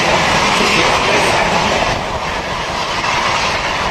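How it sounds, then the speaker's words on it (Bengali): A Ranchi–Howrah express train rushing past close by, a loud continuous rumbling roar with rattling wheel noise throughout. "দেখুন ধুলো উড়িয়ে আসছে এক্সপ্রেস, একদম পতাকাটাও দেখতে পাচ্ছেন নিশ্চয়ই।"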